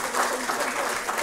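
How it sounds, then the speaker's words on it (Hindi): Audience applause at a women's event during a lamp-lighting inauguration by a minister, a brief steady patter of many hands clapping with faint voices mixed in. "और एक बार जोरदार तालियां"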